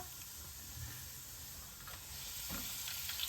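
Chana dal and curry leaves fry in a tempering of oil for puri curry, a soft, steady hissing sizzle heard close with faint stirring bumps.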